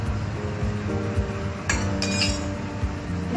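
Flour, ghee and salt mixed together in a bowl for roghni roti dough, with scattered clinks and taps of a utensil against the bowl over a low background hum, close and without talk.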